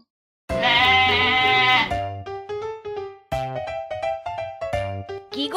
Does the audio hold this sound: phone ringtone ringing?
no